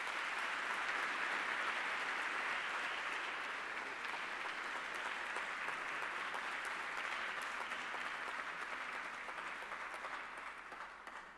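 Sustained audience applause for the Prime Minister of Greece at the Pharos Summit 2022, a dense steady clapping that fills the room and fades slightly toward the end.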